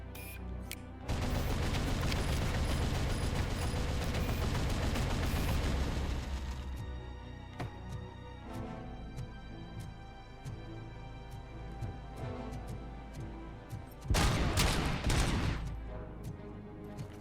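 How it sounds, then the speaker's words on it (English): A heavy machine gun hammers out a long, loud sustained burst in the RoboCop Rogue City video game, followed by scattered single shots and impacts, then another short intense burst late on. "Only 20 more, 21 more shots with the heavy machine gun."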